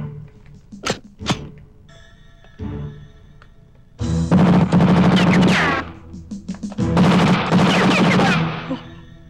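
Gunfire from a 1993 Filipino action movie: a few sharp isolated shots early, then two long dense bursts of rapid fusillade, loud and close, with brief pauses between.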